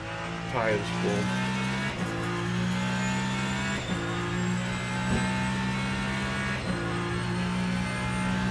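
Race car engine in the sim game Le Mans Ultimate drones steadily at high revs through a lap, with gear shifts and brief tire noise, while someone talks over it.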